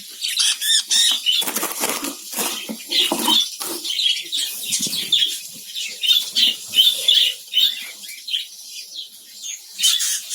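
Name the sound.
budgerigars flapping wings while being caught in colony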